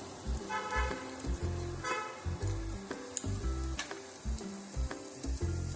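Onions go into a pan for garlic mushrooms and fry with a steady, close sizzle that runs throughout, mixed with tonal background sounds and no speech.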